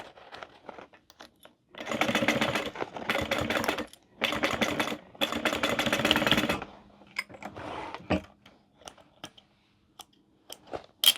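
Bursts of rapid mechanical stitching from a sewing machine sewing a boxy bag, running in several runs of a second or two with short pauses, followed by quieter clicks and handling.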